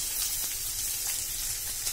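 Onions sautéing in a little oil for Chettinad mutton chukka, a steady soft hiss and crackle of frying throughout, with no talk.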